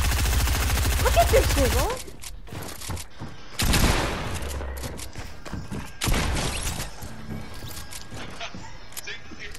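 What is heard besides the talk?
gunfire in a video game 1v1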